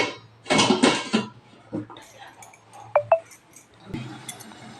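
A lid goes onto a cooking pot of millet-flour dumplings in a home kitchen, giving a couple of close metallic clinks and rattles between softer handling knocks and brief low talk.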